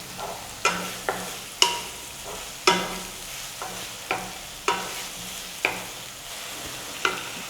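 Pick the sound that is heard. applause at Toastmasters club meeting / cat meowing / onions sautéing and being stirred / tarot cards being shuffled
onions sautéing and being stirred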